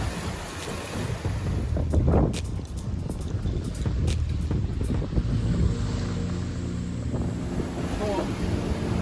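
Waves surge and splash steadily around a sailing boat at sea in the Bahamas, with heavy wind noise buffeting the microphone throughout and no break in the rush.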